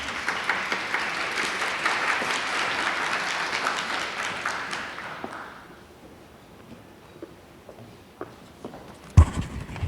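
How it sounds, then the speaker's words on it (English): Seminar audience applauding at a morning accounting session, a dense wash of clapping for about five seconds that fades to scattered claps and quiet room noise, ending with a sharp bump. "please give her a round of applause"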